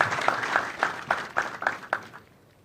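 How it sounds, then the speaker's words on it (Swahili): An audience at a Kenya Air Force 60th anniversary award ceremony claps in a steady, rhythmic pattern, loud at first and then fading out, with no speech over it. "Tumshangilie kwa makofi tafadhali."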